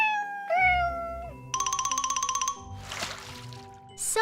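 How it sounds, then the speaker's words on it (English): A gray cat gives one drawn-out meow near the start, followed by a buzzy ringing tone, a splashy burst and a final bright jingle, with no talking. "Cat is gray."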